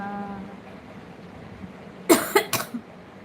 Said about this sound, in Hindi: खांसी आ गया।